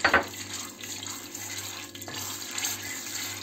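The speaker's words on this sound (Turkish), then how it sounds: "Margarinim eridi. Sıvı yağımı da ekliyorum." Vegetable oil is poured into melted margarine in a pan while making milk semolina halva, a steady, fairly quiet liquid stream close by that runs throughout with a brief splash at the start.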